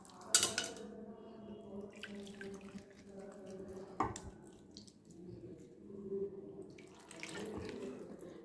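Water being poured over tamarind to dissolve it while making Thanjavur puli milagai vathal, a soft continuous splashing and trickling in a kitchen. Faint clinks of a vessel are heard, with no talking.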